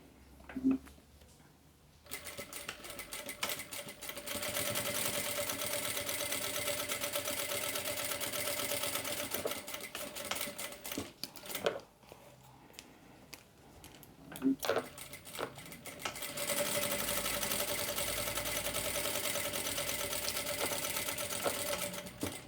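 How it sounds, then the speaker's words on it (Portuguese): A sewing machine runs in long steady bursts while stitching seams along both sides of folded synthetic fabric for a small baby toiletry bag, with a short pause and a few faint clicks between runs. "Agora eu vou passar uma costura de um lado e do outro."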